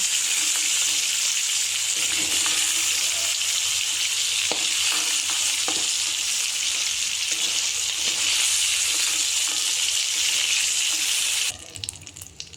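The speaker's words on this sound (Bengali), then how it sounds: "সবজিগুলোকে ফ্রাই করে নেব।" Vegetables with green chili, onion and garlic sizzle steadily in a hot pan for a Chinese-style chicken soup, a loud continuous hiss with occasional stirring clatter, ending abruptly near the close.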